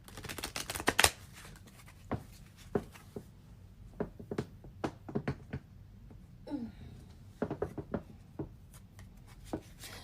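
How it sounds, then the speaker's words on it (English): Thick tarot cards are shuffled in quick bursts of riffling and soft slaps, close and quiet, with pauses between the sequences. "these cards are a little thick, so it's a little harder to shuffle"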